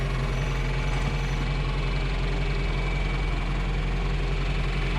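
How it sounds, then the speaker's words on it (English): A baler tractor engine idles steadily nearby, a continuous low rumbling drone with slight knocking vibration that holds at even volume throughout, with no talk. "We're gonna bring the baler tractor out"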